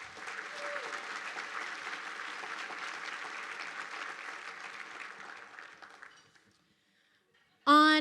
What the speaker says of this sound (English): So let's give your chamber staff a warm round of applause.